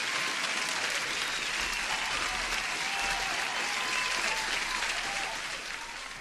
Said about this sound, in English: I gotta give you an applause.